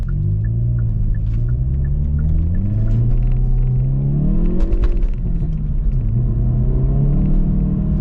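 A 2022 Hyundai i30 N engine drones and rises in pitch as it revs and accelerates, dropping and climbing again, loud and close with a low rumbling tone throughout.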